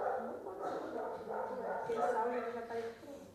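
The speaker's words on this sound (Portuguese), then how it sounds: "Que inferno esses cachorros." Dogs bark and yip in the background during an outdoor vegetable-growing session, partly masked by people talking nearby.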